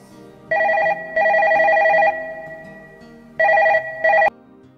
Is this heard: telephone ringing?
yes